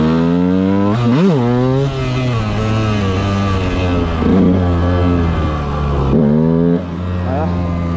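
A motorcycle being ridden, its engine revving up and down in loud, close bursts with rising and falling pitch, while a rider talks over it at times.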